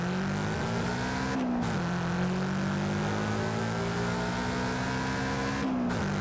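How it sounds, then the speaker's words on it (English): A car engine roars hard through a launch in Forza Horizon 5, its pitch climbing steadily and dropping briefly at each gear shift, loud and continuous. "let's just launch this car"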